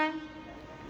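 A passing train sounding its horn at a railway crossing in Ghatkesar, one brief loud blast that fades quickly.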